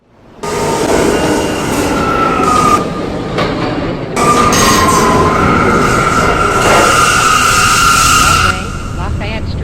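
A New York City subway A express train pulling into a station, its loud rumble rising sharply at the start, with rolling wheel noise, metallic squeals and clattering over the track as the cars pass close by.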